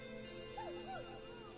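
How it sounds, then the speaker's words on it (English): A neighbor's dog barks and yips in the video game Killer Frequency, a few short rising cries carrying faintly over steady background hum at night. "Is that a neighbor's dog?"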